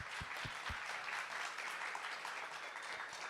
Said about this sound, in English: Let's give them a round of applause for everything.